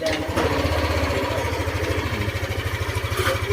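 A Yamaha NMAX 155 scooter engine idles steadily close by, its low putter holding an even, rapid rhythm throughout without revving.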